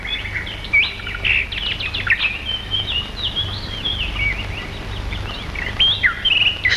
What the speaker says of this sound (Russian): Вот канарейка.